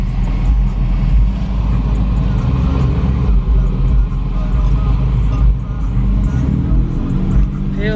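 Dodge Hellcat engine at a Mopar car meet, a loud continuous low rumble and revving close by amid crowd noise and people talking, with a deeper roar swelling near the end.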